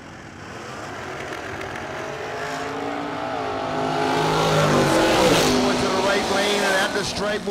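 Drag racing cars, one a Camaro, launching and revving down a bracket race strip, engine roar building and growing louder toward the end, with an announcer talking over it.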